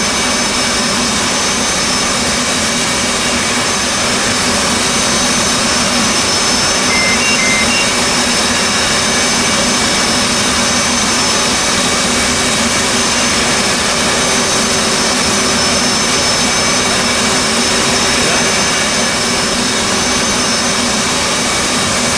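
Jet engine of an F/A-18C in a flight simulator during a cold start, one engine running as a loud, steady whine and roar that holds unchanged and alone throughout.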